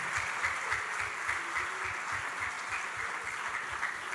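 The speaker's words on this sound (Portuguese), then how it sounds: "Eu queria que todos nós agora dessemos a salva de palmas a toda a nossa equipe que trabalhou lá no encontro de casais." A church congregation claps steadily for its team in an even, continuous wash of applause lasting the whole stretch, with a soft low rhythmic pulse underneath.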